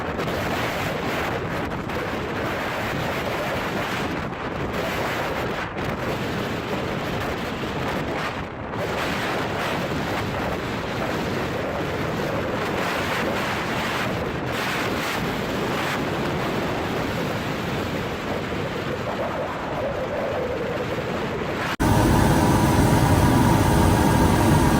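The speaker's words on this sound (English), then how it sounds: "A large fishing vessel flying the flag of the Netherlands confidently passes the waves in a storm." Storm waves and gusting wind surround a large Dutch-flagged fishing vessel at sea, a loud, continuous roar of surf and wind buffeting with no voices, ending in a sudden louder rush.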